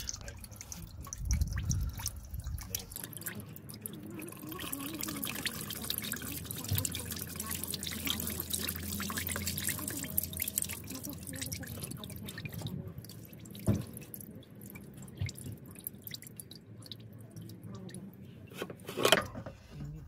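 Fuel draining from the removed fuel filter of a Ford Transit van, a steady dripping and trickling close by with faint clanks of tools and handling, continuing for about twenty seconds.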